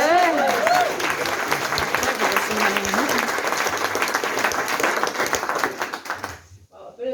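An audience gives another round of applause at a storytelling event, a full sustained burst of many clapping hands over several seconds, with a voice speaking on top at the start before the clapping fades out.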